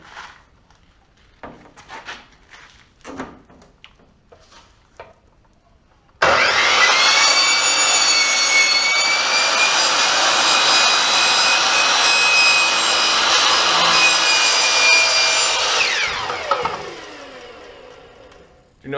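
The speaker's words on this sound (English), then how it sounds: "you can cut it with a standard carbide blade" A saw with a standard carbide blade cuts an aluminum skid plate from a Z400, a loud, steady, high-pitched whining rasp lasting about ten seconds close up, then winding down.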